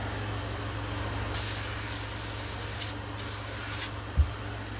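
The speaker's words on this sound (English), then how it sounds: "before I spray the next color." Spray paint hisses onto a latex Jason Voorhees mask in three steady bursts of differing length, loud and close, with short pauses between and no voices.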